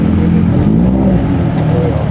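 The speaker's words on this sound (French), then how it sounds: "La moto," A motorcycle engine revs loudly and steadily close by, its throaty drone rising and falling, with voices murmuring faintly underneath.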